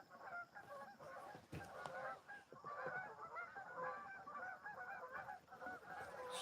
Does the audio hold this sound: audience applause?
no